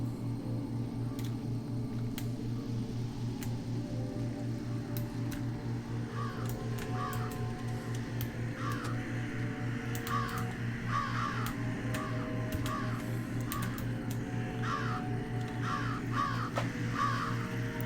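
Crows caw repeatedly in the Jenny LeClue - Detectivu graveyard, short harsh calls in irregular clusters over a steady low droning ambience, moderately near.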